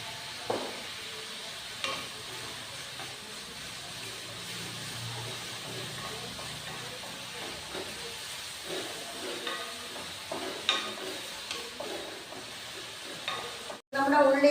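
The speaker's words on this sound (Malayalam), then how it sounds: "നമ്മുടെ ഉള്ളി നന്നായിട്ട് വഴറ്റി വന്നിട്ടുണ്ട്." Onions sautéing in a pan for potato cutlets, a steady gentle sizzle with occasional stirring scrapes, close and moderately quiet, ending in a louder clatter.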